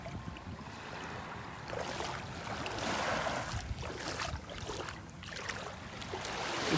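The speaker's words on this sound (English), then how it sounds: "Just some little tiny waves lapping on the shore." Small, gentle waves lap continuously on a sandy Gulf beach at Delnor-Wiggins in North Naples, Florida, on a calm morning, a soft steady wash with a light breeze and no talk.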